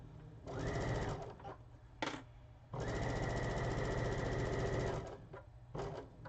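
Sewing machine stitching a seam in several bursts: a short run, a quick blip, then a long steady whirring stretch, with pauses between and two brief bursts at the end, close and fairly quiet.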